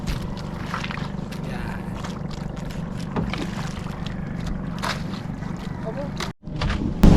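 Continuous rumble of a large fishing boat moving on water during squid fishing, with wind buffeting the microphone and faint background voices.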